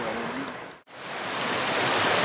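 A forest stream flows in a steady, rushing wash of water, loud and close, broken once by a brief cut before the flow swells again.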